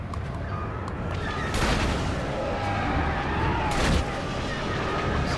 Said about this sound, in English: Somebody is shooting at me.